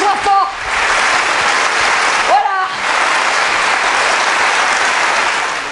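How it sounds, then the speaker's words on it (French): A crowd at a gathering for young road-accident victims applauds steadily and loudly, a dense wash of clapping that dips briefly once and resumes; a voice speaks briefly at the start. "on va tous applaudir, parce qu'il faut l'applaudir d'être là"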